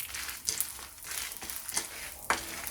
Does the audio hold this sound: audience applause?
no